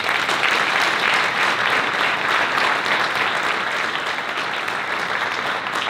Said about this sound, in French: Et je pense qu'on peut les applaudir,